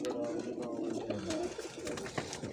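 Pigeons at a breeder's loft in Faisalabad give soft, throaty repeated coos, close and overlapping amid light rustling and background noise.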